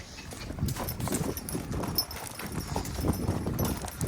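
A Belgian draft horse's hooves clip-clop in a steady, close rhythm on firm ground, heard alone with no talking.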